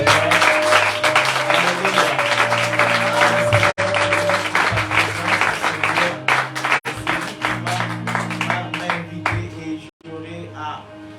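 A church congregation applauds in praise during a prophetic and apostolic preaching event, with dense, sustained clapping that fills the room alongside voices before gradually thinning out.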